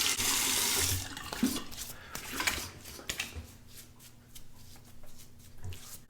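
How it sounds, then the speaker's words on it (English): Running water from a tap rinses a razor and a face, a steady broadband flow in the first second followed by softer splashes and intermittent trickling, close and moderately loud with no talk. "Rinse the razor and rinse the face."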